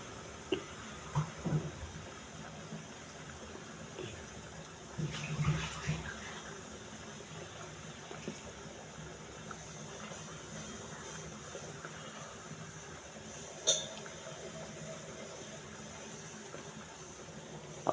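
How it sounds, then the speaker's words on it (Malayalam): Water coming to a boil in an idli steamer pot gives a faint, steady bubbling hiss that runs throughout with a few small clinks and no talking. "ഇഡ്ഡലി പാത്രം വെച്ചിട്ട് ഇഡ്ഡലിയുടെ വെള്ളം തിളച്ചു തുടങ്ങിയപ്പോൾ"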